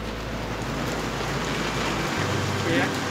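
Heavy rain falls in a steady, dense hiss that stays even and continuous throughout, with a low rumble underneath and no distinct voices standing out.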